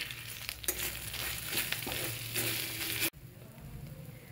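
Ginger paste with coriander and cumin powder fries in a pan with a close, steady sizzle and occasional stirring scrapes, cutting off abruptly to a quieter hiss near the end.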